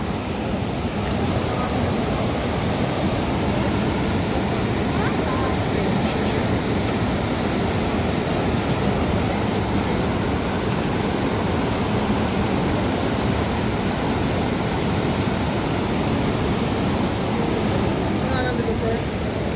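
Huka Falls in New Zealand roars as a steady, loud wash of rushing water, a constant broadband rumble that stays even throughout with no breaks.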